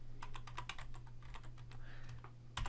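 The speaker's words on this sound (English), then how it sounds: "So when I'm typing it over here," Steady typing on a computer keyboard while entering an Excel formula, quick light key clicks in an irregular stream under a low hum, with no voice.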